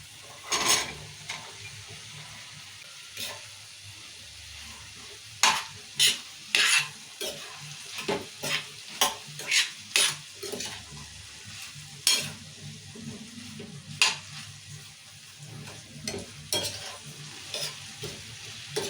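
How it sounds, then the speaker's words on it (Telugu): Ivy gourd curry with onions being stirred in hot oil, with a spatula scraping the pan in irregular bursts over a steady low sizzle, close and alone with no talk. "దొండకాయలు కూడా మంచిగా కలుపుకోవాలండి వేసి అన్నీ నూనెలే కలుపుకోవాలి"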